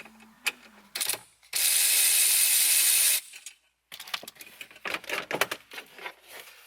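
Small screwdriver or ratchet work on the last screw inside a Nissan 350z, close-up clicking and ratcheting in short bursts with a sustained whirring stretch in the middle, no talking.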